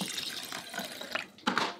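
Water pours and splashes into a rice cooker pot of rinsed jasmine rice, a brief bubbling gush close by that ends in a sharper splash; no talking.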